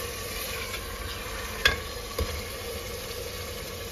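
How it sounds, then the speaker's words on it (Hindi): Chicken frying with onions in a pan over a high flame gives a steady sizzle and crackle throughout, with a couple of sharp stirring clinks, close and unaccompanied by talk. "अब हाई फ्लेम करके इस चिकन को हम थोड़ा सा प्याज में भून लेंगे।"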